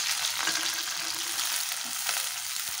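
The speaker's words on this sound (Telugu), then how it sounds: "రొయ్యలు ఆయిల్లో వేసుకుందాం" Dried prawns, about 100 grams, frying in hot oil for a gongura curry give a continuous dense hiss and crackle, close and steady throughout with no voices.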